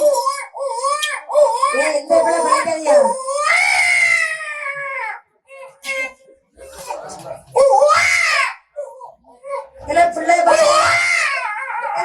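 A performer in a Tamil Villu Pattu folk storytelling of the Sudalai Madan tale imitates an infant crying loudly, with wailing, sobbing bursts broken by short pauses, close and dominant.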